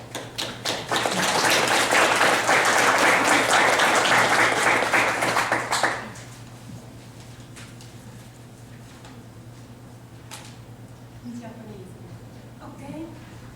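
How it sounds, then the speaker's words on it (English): At a tea ceremony gathering, a crowd claps steadily and loudly for several seconds, then the applause fades out quickly, leaving a quiet room with a low steady hum and a few soft taps. "So let's actually give applause."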